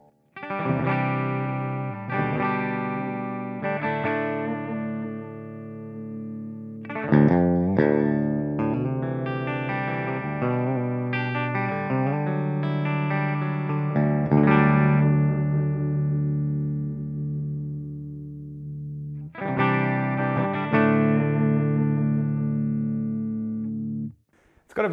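Clean electric guitar played in the first pickup position rings out through a Seymour Duncan Powerstage 170 amp with a Revv G4 pedal, strummed chords and picked notes sustaining warmly, with brief pauses between phrases.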